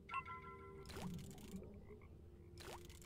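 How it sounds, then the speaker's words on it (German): Frog croaking in the Grim Tales fishing minigame, two quiet rising croaks about a second and a half apart over a low, soft background, with no speech. "Oh, was ist das eigentlich für ein krasser Frosch?"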